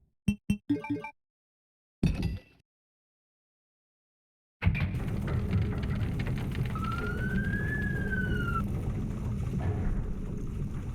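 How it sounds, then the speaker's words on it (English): An ambulance siren passes outside in a city, a rising and falling wail heard steadily for several seconds over a continuous background, preceded by a few short isolated sounds and a pause. "I think I can hear the ambulance"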